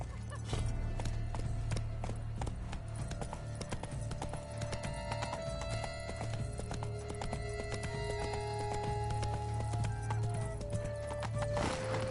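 Horse hooves clip-clop steadily in The Witcher 3: Wild Hunt, Blood and Wine, with a continuous rhythmic trot over low ambient music, and an occasional whinny near the end.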